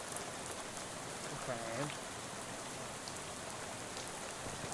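Rain falls steadily in the video game Shadows Over Loathing, a soft continuous hiss under quiet ambience, with a brief spoken word breaking in partway through.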